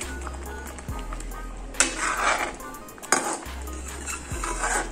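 A spoon stirs garam masala and sugar into cooked vegetables in a pan while making shahi paneer, with a few metallic clinks and scrapes over a faint sizzle.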